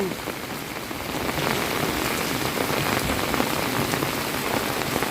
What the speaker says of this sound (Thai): เบิ่งสายฝน ฝนตกแล้วเมื่อนี้